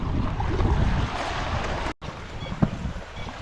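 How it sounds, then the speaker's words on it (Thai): Strong wind buffets a boat in a steady, loud, rumbling roar with gusty low-frequency thumps, a brief dropout near the middle and a sharper knock afterward. "เวลาลมมันตีบุ้มบัมบุ้มบัมไปหมดครับผมเสียงดัง"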